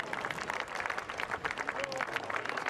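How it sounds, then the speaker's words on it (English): Racecourse crowd at York cheering and applauding the racehorse Frankel, a dense, steady roar of clapping and voices that holds at an even level throughout. "The crowd go nuts for this horse"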